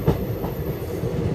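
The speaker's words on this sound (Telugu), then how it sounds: "మన ట్రైన్ బయలుదేరిపోయింది." Passenger train on the Tirupathi to Kacheguda Sankranthi special run departing and rolling along the rails, a steady low rumble with faint clickety-clack throughout, heard from on board without talk.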